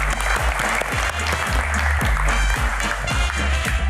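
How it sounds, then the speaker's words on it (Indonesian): A studio audience claps loudly for a talk show guest in a steady, dense burst of applause, with low thumps throughout and voices faintly mixed in. "tepuk tangan sekali lagi"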